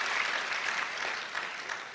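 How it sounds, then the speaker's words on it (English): Audience applause at a Ghanaian induction ceremony honouring the Ministry of Health Choir, a steady, dense clapping from a large crowd sustained evenly throughout. "let's give the Ministry of Health Choir an applause deserving of the song that they gave"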